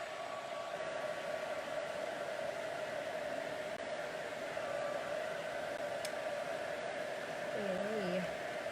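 A dryer blows hot air onto paint on a mixed media canvas, giving a steady, close, continuous whooshing hum that lasts throughout, with faint speech just at the end.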